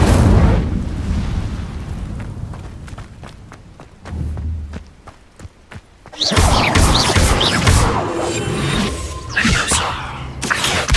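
Incendio fire spell in the video game Hogwarts Legacy, a loud roaring blast that erupts suddenly after a rumbling lead-in of thuds and clicks, then rushes and crackles continuously with fiery bursts.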